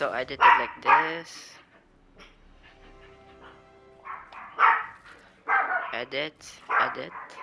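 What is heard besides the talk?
dog barking in the background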